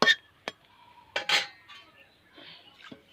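A lid set down on a pot of boiling soybeans in a home kitchen, giving a few sharp metallic clanks and clinks spread over a few seconds, fairly close.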